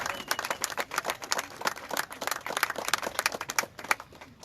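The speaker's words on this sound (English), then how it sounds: "give him a round of applause" Audience applause at a press conference, a quiet, dense patter of many hands clapping steadily in a room, heard at a distance with no talking.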